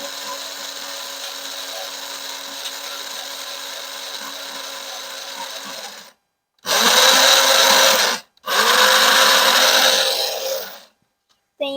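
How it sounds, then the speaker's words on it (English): Electric grinder grinding coffee beans coarse for a French press, a loud close whirring motor run in several bursts separated by brief pauses. "Now we're going to grind our beans."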